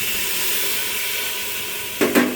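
Water poured into a pan of frying garlic, ginger, turmeric, chili, garam masala and cumin, a steady loud hiss with two sharp sizzling bursts near the end.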